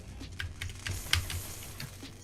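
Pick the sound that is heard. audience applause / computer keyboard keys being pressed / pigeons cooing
computer keyboard keys being pressed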